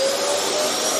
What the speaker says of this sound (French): Aspirateur.